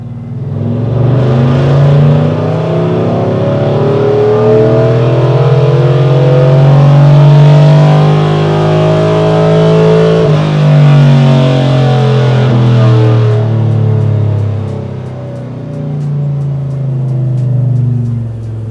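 A truck fitted with a BTR Truck Norris cam roars through a dyno tuning pull. The engine note climbs steadily to a loud peak, then winds down and settles into a lower drone. Nobody speaks.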